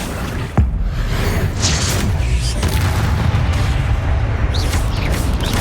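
A single sharp explosive boom from the Confringo blasting spell in Hogwarts Legacy bursts out near the start, then gives way to a rumbling, crackling game soundscape.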